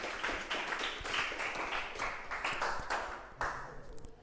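Students in a classroom clapping together, a steady, fairly quiet patter of many hands heard from some distance in a reverberant room, going on for several seconds without speech.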